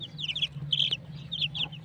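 Chicks of Aseel chickens, separated from the hen, chirp and cheep rapidly in short bursts, close by, over a low steady hum.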